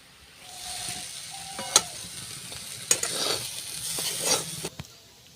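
Vegetable chow mein stir-fried with tomato sauce in a village kitchen, a steady sizzle punctuated by a few sharp clinks of a spatula against the pan, close and alone.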